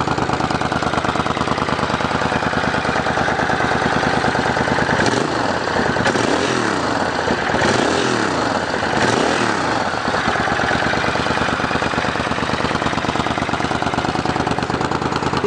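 A 2007 Suzuki Boulevard S50 motorcycle with stock mufflers idles close by, a steady, loud, rumbling engine note with a regular pulsing beat and rhythmic swells partway through.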